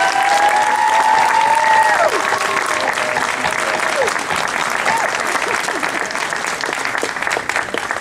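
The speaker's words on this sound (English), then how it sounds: "Let's give them a round of applause." Long, loud wash of applause from the audience at a high school graduation ceremony, steady for eight seconds, with a few tonal whistles or cheers over it near the start.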